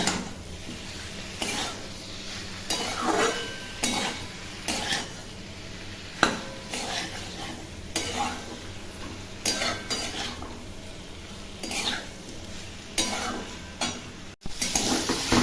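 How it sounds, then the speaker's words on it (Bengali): Goat fat and liver fry in a pan with a constant low sizzle, broken by frequent scraping and clinking as a utensil stirs against the metal; no speech. "চর্বিগুলো দিয়ে দিয়েছি খাসির আর মেটে এখন ভালো করে ভেজে নিচ্ছি"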